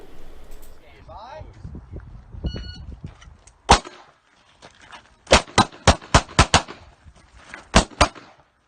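Pistol gunshots ring out during a moving-and-shooting drill with cover, starting with one loud report, then a rapid string of six sharp shots and a final close pair. Faint voices and shuffling come before the firing.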